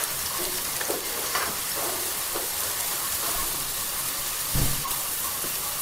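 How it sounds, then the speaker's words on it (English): Dal ingredients frying in a pan as they are stirred, a continuous close sizzle with a few scraping spoon strokes and one louder thump near the end. "Mix and fry till ingredients become red brown"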